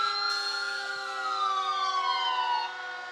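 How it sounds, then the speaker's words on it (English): A 7 Mile Fire Department engine siren wails steadily at a July 4th parade in Hamilton, a loud tone gliding slowly downward over about three seconds with no talk over it. "7 Mile Fire Department, I think named because you could hear their sirens coming from at least 7 miles away"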